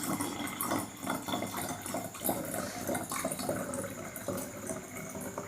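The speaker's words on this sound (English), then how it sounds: "Now I am taking a round bottom flask and water in it" Water pouring and splashing into a glass round bottom flask, a continuous close trickle with bubbling that stays steady throughout.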